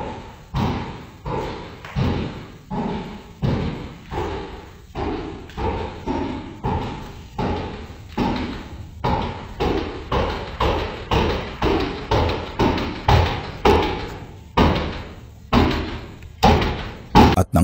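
A door thudding repeatedly, heavy thumps coming in a steady rhythm of roughly one per second for about eighteen seconds, loud and close, with no talk.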